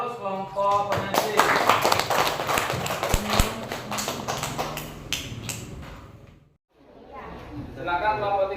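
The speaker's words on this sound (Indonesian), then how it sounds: "Kita beri aplaus kelompok penyaji." Classroom audience applauding a presenting group, dense clapping that fades out midway, then voices talking quietly afterward.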